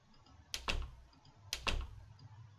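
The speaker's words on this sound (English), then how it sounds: "See, now I have this door field sample." A door field sample played back twice inside Reason's Kong Drum Designer, each trigger a sharp knock-like thud with a short rattling decay, spaced about a second apart and heard alone over a faint background hiss.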